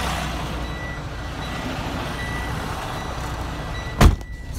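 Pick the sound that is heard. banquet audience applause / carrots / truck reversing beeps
truck reversing beeps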